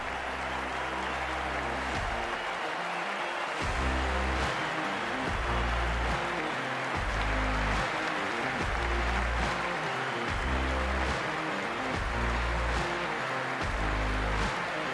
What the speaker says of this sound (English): The crowd's built up nicely and is already making plenty of noise.